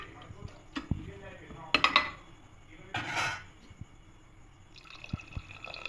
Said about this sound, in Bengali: এবার খুব ভালো করে হাতা দিয়ে নেড়ে নেব।